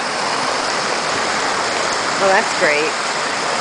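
Rainwater rushes like a stream down an eroded driveway during heavy rain in Rhode Island, a loud steady roar throughout, with someone speaking briefly over it near the end.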